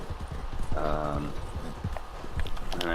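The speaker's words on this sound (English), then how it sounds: "This is a slower horse. It's got way better stamina on it than Trooper, my thoroughbred" A slower, high-stamina horse in the video game Red Dead Redemption 2 Online clip-clops along in a steady, close hoofbeat rhythm, with a couple of brief tonal game sounds layered over it.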